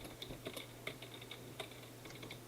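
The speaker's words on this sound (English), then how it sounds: "Sorry, I was typing." Computer keyboard typing, a steady run of quick, uneven clicks and key taps at close range over a low constant hum, with no talking.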